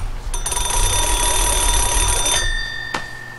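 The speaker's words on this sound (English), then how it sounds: "now we'll do a check from the call from the M37 to the" A Swedish M37 military field phone's bell rings on an incoming call, a loud, close, steady metallic ring lasting about two seconds before cutting off, followed by a single faint click.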